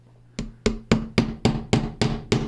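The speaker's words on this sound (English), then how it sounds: "I should be able to just hit these with a hammer, and they should be able to just kind of snug right in there." A hammer strikes threaded inserts into a walnut workpiece: eight sharp, evenly spaced taps in a steady rhythm, close and loud, with nothing else around them.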